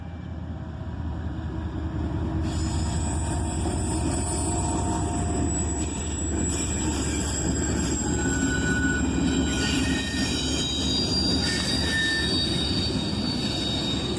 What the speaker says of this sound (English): the Erie Heritage Unit trails as the train goes across the bridge